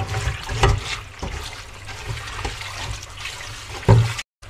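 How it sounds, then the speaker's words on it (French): Cooked spinach is rinsed under cold running tap water, a close, uneven splashing and trickling stream with a few louder gushes, cutting off abruptly at the end. "on va rincer dans l'eau froide."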